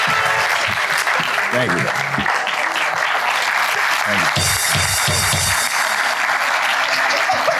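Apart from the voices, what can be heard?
studio audience applause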